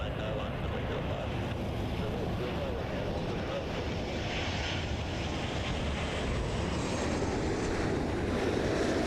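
Air Canada Airbus A330-300 arriving from Amsterdam and landing at Toronto Pearson, a broad, steady roar of distant jet engines with wind noise, constant in level throughout.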